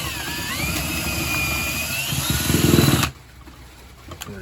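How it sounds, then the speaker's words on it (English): A power drill fitted with a corn kernel-cutting bit whines steadily at close range, then cuts off abruptly, leaving a quieter room with faint small noises. "reverse the drill, remove"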